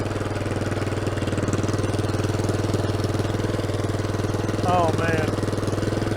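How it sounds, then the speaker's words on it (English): A 65-year-old small tractor with a tall exhaust stack runs loudly at idle, its engine beating in a steady, rapid low thump throughout, while a person speaks briefly near the end. "This is such a neat little tractor. Of course it's stupid loud with this stack on it"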